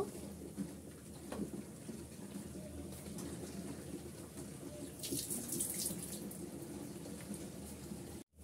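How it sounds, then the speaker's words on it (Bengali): Slices of green banana fry in hot oil in a pan, a steady, crackling sizzle that stays close and continuous before cutting off abruptly at the end. "উল্টিয়ে পাল্টিয়ে আমি গোল্ডেন করে ভেজে নিচ্ছি"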